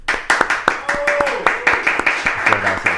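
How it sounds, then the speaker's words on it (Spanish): A studio audience claps for a talk-show guest, a lively run of fairly close, rhythmic handclaps with a voice speaking briefly over them. "Así que los aplausos para José Duarte Penayo."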